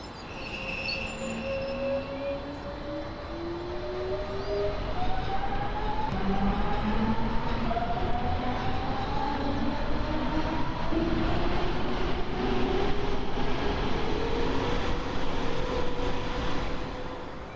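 A passenger train in the snowy Train Sim World Hauptstrecke Rhein-Ruhr route rolling along at speed, a steady loud rumble of wheels on rail with rising and falling whining tones throughout.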